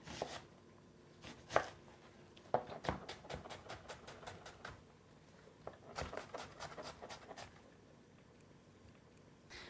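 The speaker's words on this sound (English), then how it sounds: "So chop up the onion." A knife chops an onion on a cutting board in quick, irregular bursts of sharp taps, with short pauses between runs, close and fairly quiet.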